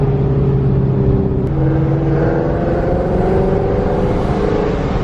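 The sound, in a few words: boosted Shelby GT350 Mustang accelerating with exhaust closed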